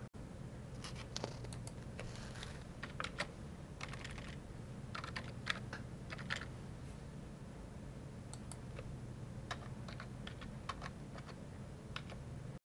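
A PIN is typed on a computer keyboard in quick, uneven bursts of faint, close key taps with brief pauses between, over a low steady room hum, no voices.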